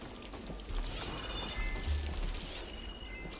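Thick, sauce-like liquid drips and trickles in Horizon Forbidden West, a steady wet patter and pouring wash that holds at moderate loudness for several seconds, with no voices.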